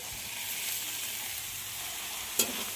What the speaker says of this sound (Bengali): এবার এতে সিদ্ধ করে জল ঝরিয়ে রাখা তরমুজের খোসাটা দিয়ে দেব।